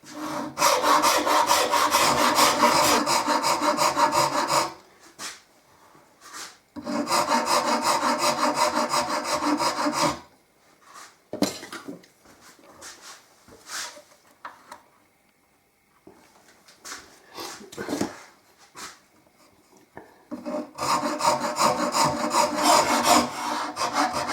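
A rasp scrapes wood on a new mandolin near the fretboard in steady back-and-forth strokes, first in loud, regular bursts, then softer scattered strokes after a switch from the coarse side to the finer side, and finally a loud burst again.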